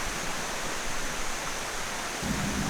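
Steady broadband rush of a waterfall at a cool Chiang Mai riverside coffee spot, continuous and even throughout with no voices.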